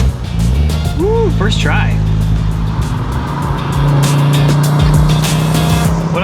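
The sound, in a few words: Audi Quattro car driven hard, tires squealing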